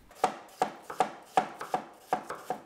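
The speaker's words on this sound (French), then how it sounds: "On peut maintenant émincer nos pommes en petits cubes." Apples being diced into small cubes with a knife on a board: seven crisp, evenly spaced chops in a quick steady rhythm, close and clear with no talking.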